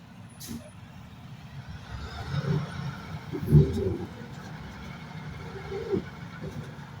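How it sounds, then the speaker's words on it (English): A truck stuck in snow during an ice storm rumbles low and muffled at a distance, its engine swelling and easing with a few sharper mechanical bursts, under faint wind. "Got another truck out here, y'all, stuck."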